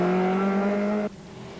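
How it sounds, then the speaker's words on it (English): A Ford Escort rally car on a tarmac spectator stage at the 1982 Welsh Rally, its engine holding a steady, high-revving note close by before cutting off abruptly. "Francis Tuthill is just a few seconds behind in his Ford Escort"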